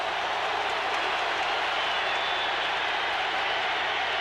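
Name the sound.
stadium crowd roaring at college football game in Tuscaloosa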